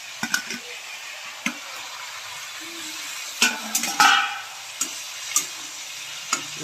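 Capsicum, carrot and tomato fry in a pan while a spoon stirs them, making irregular scraping knocks and squelches over a soft, continuous sizzle, close by and with no voices.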